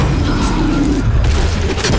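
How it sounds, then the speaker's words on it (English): Trebuchet destroyed in Guild Wars 2 PvP combat: a loud, deep rumbling boom with crunching debris lasting about two seconds, dense and close. "Your trebuchet's been destroyed!"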